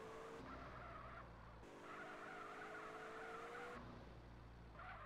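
A car in GTA San Andreas with 4WD handling slides and fails to hold a drift, tires squealing in long sustained streaks over a steady engine drone, loud and continuous with no talking.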